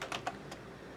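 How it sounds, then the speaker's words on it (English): Someone types search keywords on a computer keyboard, a short run of soft, quick key clicks, fairly faint and close, with no voices. "So we will type in shoots,"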